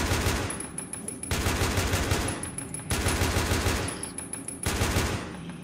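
An AK-74M fires in long automatic bursts in a Minecraft Battlefield mod zombie fight, a rapid, loud, close rattle of shots in three or four sustained strings with short gaps between.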